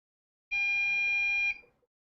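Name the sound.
warning beep notification from QNAP NAS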